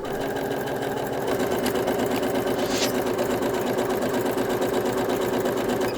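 A Singer Heavy Duty 6805 sewing machine stitches continuously with a twin needle on a straight stitch, a fast, even mechanical whir and rhythmic needle clatter, close and steady throughout.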